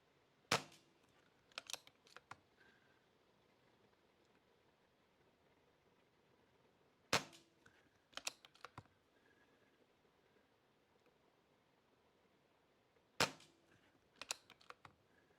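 BSA air rifle firing pellets at a target, three separate volleys of sharp cracks spaced several seconds apart, each a loud snap followed by quieter clicks and rattles, in a quiet setting with no talk.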